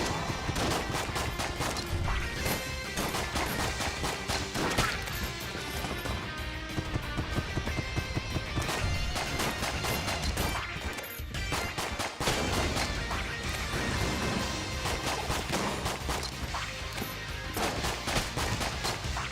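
Dense, constant gunfire and crashing impacts from an action video game, rapid bursts filling the whole stretch at steady loudness, mixed with a busy game soundtrack and no talking.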